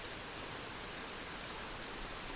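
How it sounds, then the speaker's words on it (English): Quiet, steady rain tapping against windows at night, a soft continuous hiss of drops with no distinct individual taps, running evenly throughout. "rain taps quietly against the windows outside"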